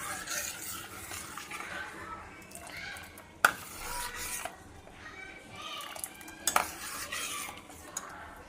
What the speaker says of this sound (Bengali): আর এটাকে আমি নাড়িয়ে দেবো।